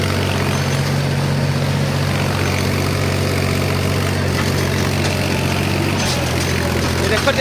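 A loaded tractor engine laboring steadily on slippery ground, a continuous low drone with a strong rumbling hum held throughout, close and fairly loud with no pauses.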